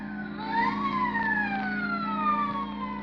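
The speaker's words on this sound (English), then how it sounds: "now and then the police whistle and the prowl car sirens serenade the sleeper" Wailing police prowl-car sirens sweep up and down in pitch across a nighttime city scene in a radio drama, several overlapping and steady in level, heard alone without speech.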